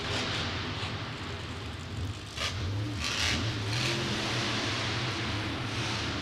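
A monster truck engine revs hard at a nighttime freestyle event, a loud, continuous roar whose pitch climbs and dips with the throttle, plus rough exhaust rumble and crowd-filled arena noise around it.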